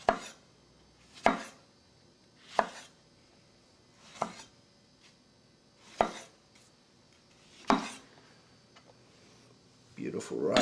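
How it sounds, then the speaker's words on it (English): A kitchen knife chops ripe tomatoes on a board in a slow, rough rhythm: about seven separate, sharp thunks spaced a second or two apart, close and clear, with a fuller clatter at the very end. "cut it into quarters, actually into 8ths, and then I'll give it a rough chop from there"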